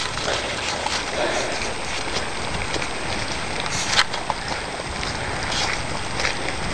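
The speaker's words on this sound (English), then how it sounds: "it's raining out here" Steady rain pours outdoors around a collection of Wheel Horse garden tractors, a dense continuous hiss with a few brief knocks and taps near the middle and no talking.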